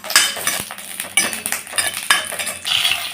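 Green chillies sautéing in a pan for mutton kuzhambu, a soft sizzle broken by a spoon scraping and clinking against the metal pan in several sharp strokes, close by.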